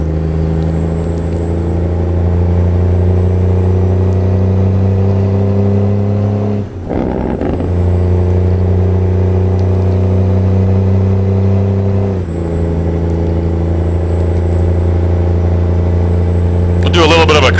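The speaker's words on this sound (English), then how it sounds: "This truck sounds so good." A Freightliner FL Classic truck engine in American Truck Simulator idles with a steady low rumble and hum, dipping briefly twice, with a short rev near the end.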